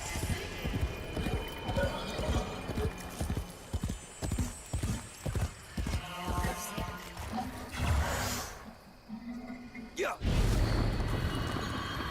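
Rhythmic clip-clop of horse hooves trotting in the video game Warframe, with a brief whinny and a loud thump near the end.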